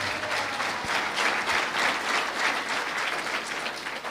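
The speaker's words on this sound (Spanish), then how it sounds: "Fuerte aplausos a Cristo el Señor." A church congregation applauds strongly for Christ during a Sunday service, steady dense clapping filling the room throughout with no pause.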